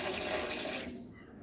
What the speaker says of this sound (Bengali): এবার পটলগুলোকে আমি ভালো করে জল দিয়ে ধুয়ে নিলাম।